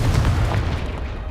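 A Confringo fire spell bursts in Hogwarts Legacy: a short, loud, booming blast with a deep rumbling body that fades quickly.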